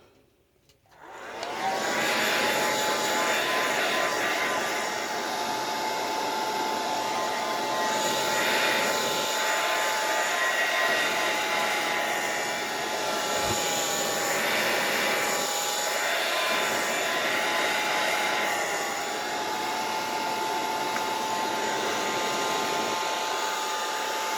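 A hair dryer blows steadily and loudly on an art journal page decorated with Dylusions sprays and Gelli prints, a continuous whirring drone that starts after a brief quiet moment and runs unbroken to the end.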